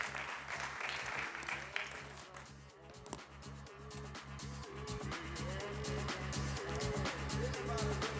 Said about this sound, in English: On peut l'accueillir et l'applaudir.